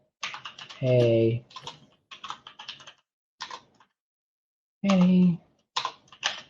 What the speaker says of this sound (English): I can just type in a quick message.